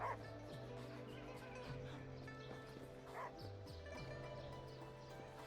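A dog in Wuthering Waves yips and gives soft, happy bow-wow barks in short bursts under steady game music, fairly quiet, with no speech.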